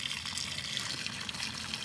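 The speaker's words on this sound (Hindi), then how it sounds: "चिकन को हम इधर अच्छे से धो लेंगे" Cold water runs steadily from a tap outdoors at a winter forest campsite while chicken is washed, a continuous close splashing gush with no pauses.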